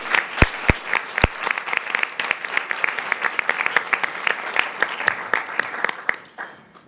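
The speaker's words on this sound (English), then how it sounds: "Let's give them a round of applause." An audience at a county commissioners' joint legislative event applauds the panelists: a few sharp, close claps at the start, then a dense, steady round of clapping that fades out near the end.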